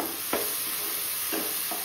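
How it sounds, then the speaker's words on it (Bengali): A spatula scrapes and stirs tomato masala in a pan for dal makhani, giving a few distinct scraping strokes over a soft, continuous low sizzle, close and quiet. "এটা দিয়ে ভালো মতো কষাতে হবে যতক্ষণ না টমেটো দিয়ে কাঁচা গন্ধটা বেরিয়ে যাচ্ছে"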